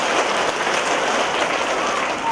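Steady crowd applause fills a church gathering in thanks after a sermon on Divine Mercy, dense and continuous throughout with no clear voices above it.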